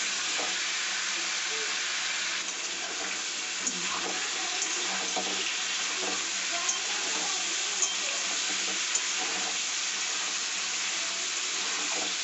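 Potatoes frying with chilies in a pan: an even, hissing sizzle running unbroken at moderate level, with a few small clicks and taps scattered through.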